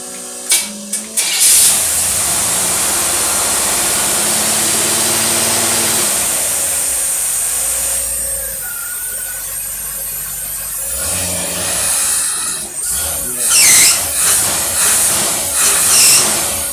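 A car engine with a Motorcraft 4300 carburetor cranks briefly, then catches and runs with a loud, steady roar. The roar eases down, then rises and falls in uneven revs toward the end.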